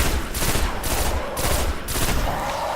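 Rapid gunfire from the shooter video game Destiny rattles in continuous bursts with short pauses, loud and dense like an automatic weapon firing repeatedly, with no voices over it.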